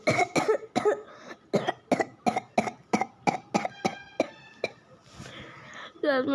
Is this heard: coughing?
yes